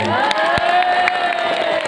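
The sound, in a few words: crowd cheering and applauding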